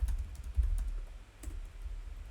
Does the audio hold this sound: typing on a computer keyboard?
yes